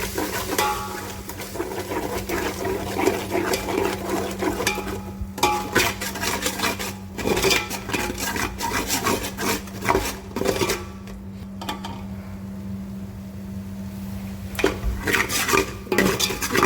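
Eggs being mashed in a pan for Punjabi-style egg masala pasta: steady scraping and clinking of a utensil against the pan, close and busy, with a faint sizzle underneath and no talk.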